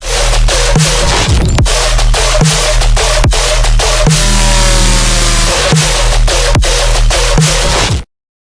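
A full music mix with a driving beat, its snare hits triggering a spectral compressor that audibly ducks the highs on each strike, giving a pumping, unnatural rhythm that runs steadily and loud throughout.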